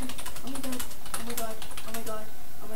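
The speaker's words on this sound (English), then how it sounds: "I'm not even typing anything right." Rapid clicking keystrokes on a computer keyboard, steady and close, with a voice speaking quietly in the background throughout.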